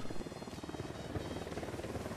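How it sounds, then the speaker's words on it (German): A drone hovers in the video game Ghost Recon Wildlands, giving a steady rotor-like buzzing drone that holds at a constant level throughout, moderately loud and alone. "Ach, das ist so ein nerviger Helikopter. Ach, das ist eine Drohne."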